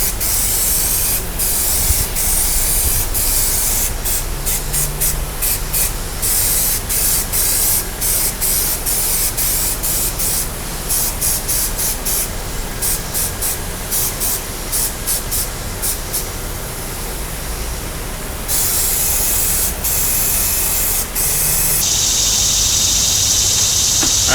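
Spray adhesive hisses loudly and steadily from an aerosol can while a homemade car dash pad is being built in a garage, the close, continuous spray broken by brief stops and restarts and no talking.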